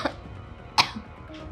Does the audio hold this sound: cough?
yes